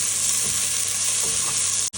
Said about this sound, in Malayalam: വെളുത്തുള്ളി ഇട്ട് നമുക്ക് കുറച്ച് ഒനിയൻ ഇടാം. എന്നിട്ട് നല്ലപോലെ ഒന്ന് വഴറ്റിയെടുക്കാം.